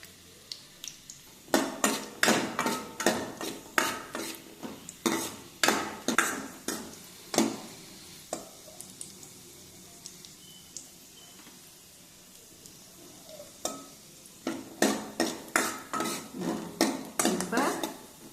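Cashews being stirred in a pan for coconut milk payasam, repeated scraping and clinking strokes of a spoon in quick rhythmic runs over a faint sizzle, with a quieter pause midway.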